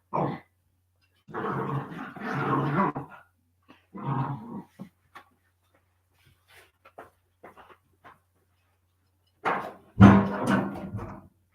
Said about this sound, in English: Let me take these dogs outside.